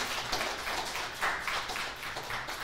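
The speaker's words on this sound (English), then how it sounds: "I just want to give them a round of applause" Audience applause at a summit, a steady, moderately loud round of clapping from a room of people filling the whole short stretch.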